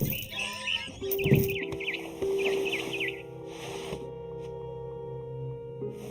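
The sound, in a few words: barn swallow chirping, video game What Remains of Edith Finch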